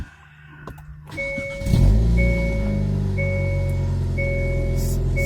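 A 2024 Hyundai Elantra N fires up from inside the cabin: a click and starter whir, then the engine catches with a loud rising rev before settling into a steady, throaty idle with a chime repeating.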